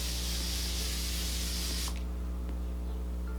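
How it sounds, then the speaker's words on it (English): A steady hissing mist of makeup setting spray onto a face, lasting a couple of seconds, close and continuous, then cutting off abruptly to quiet. "I give my face a good spray."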